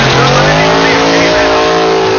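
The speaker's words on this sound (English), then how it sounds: "Jay Cox lighting them up on the left-hand side of the racetrack from Smithfield, North Carolina. 69 Camaro, 941 cubic inches" A 941-cubic-inch '69 Camaro and a rival drag car roar loudly off the line at a PDRA event in Memphis, their engines producing a sustained, high-revving scream that rises steadily while an announcer talks over it.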